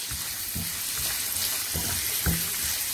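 A spoonful of flour cooks in a pan for a creamy chicken dish, giving a constant bright sizzling hiss with a few soft thuds of stirring underneath, close and even.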